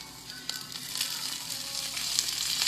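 Broccolini sautéing in olive oil in a pan with toasted garlic, a steady close sizzle and crackle that grows slightly louder, with faint stirring.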